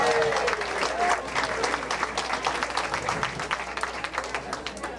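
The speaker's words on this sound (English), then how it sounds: "Give Jimmy a round of applause" A crowd gives a sustained round of applause for Jimmy, a man just concluding 43 years with the Mount Diablo School District; dense, steady clapping fills the full stretch, with faint voices mixed in.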